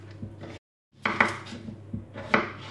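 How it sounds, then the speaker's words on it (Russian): A knife cuts a potato into quarters on a board, with a few sharp separate chops and knocks close by and brief pauses between cuts. "Теперь этот картофель я разрезаю вот так вот на 4 части."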